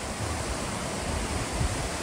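Water at Kunthala Waterfall in Adilabad rushes with a dense, steady roar that fills the whole scene, loud and close, with no voices.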